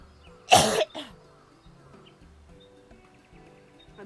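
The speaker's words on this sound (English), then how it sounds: "Why am I coughing now?" One loud, close cough bursts out, followed by a smaller second cough, then quiet room tone with faint background sounds.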